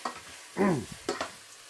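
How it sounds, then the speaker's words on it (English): Chicken, mushrooms and onions fry in a pan, giving a few short sizzling bursts as the food is stirred. The sound is close and moderately quiet, with no talk. "I've got that in with some chicken and some mushrooms and some onions. So I'm frying those little mothers off"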